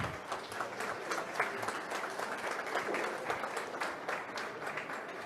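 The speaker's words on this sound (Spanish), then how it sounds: "Brindamos un fuerte aplauso a nuestra y nuestros panelistas y a nuestra moderadora" A conference audience gives a steady round of applause for the panelists and moderator of a discussion on transparency and data protection, moderately loud and continuous for the whole stretch.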